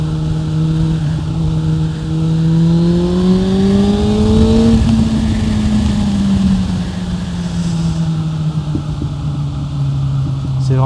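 A motorcycle cruises along an open road on a fine day, its engine drone steady and loud throughout, rising in pitch mid-ride and easing back, with wind rush and someone talking over it.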